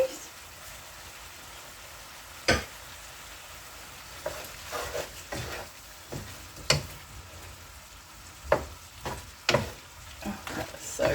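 Potatoes tipped into a hot pan and stirred while cooking with sugar or jaggery, giving a low, steady sizzle broken by scattered clattering knocks and scrapes of a utensil against the pan.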